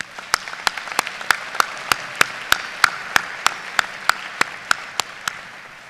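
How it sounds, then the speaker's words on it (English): A commencement audience at SIUE applauds, but only a single pair of hands claps near and loud in a slow, even rhythm of about fifteen sharp claps over a faint background crowd. "Please join me now in acknowledging them with your applause"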